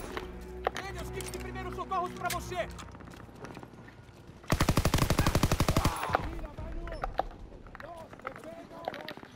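Machine gun fire in Call of Duty WW2 on the D-Day Normandy beach, a dense rapid burst of about one and a half seconds midway, with other game sounds and scattered shots before and after.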